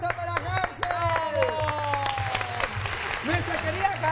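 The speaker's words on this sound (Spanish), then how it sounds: "Un aplauso para Hansel" Audience applause for a guest on a show. The clapping is moderately loud and steady, with people talking and other sounds layered over it throughout.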